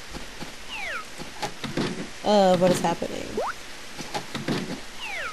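A cat meows in the Harvest Moon DS farming game, a short wavering call rising over game music and ambient tones, with a person briefly speaking nearby.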